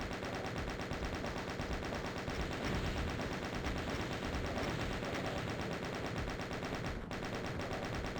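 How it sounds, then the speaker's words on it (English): The chaingun in Doom's Sunlust map30 fires in a rapid, unbroken stream of loud shots, joined by game explosions and effects for the whole stretch, with no voices. "the chain gun's so good"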